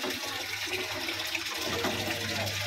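Water drains steadily from a large fish tank holding a big red fish, a continuous close rushing, gurgling flow that stays loud throughout.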